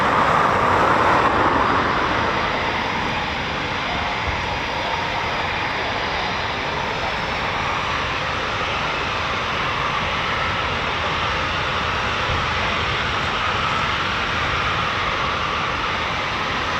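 Flight of four RAF Typhoon FGR4 jets passing over RAF Coningsby, a loud continuous roar and hiss that peaks at the start and then holds steady without fading or voices.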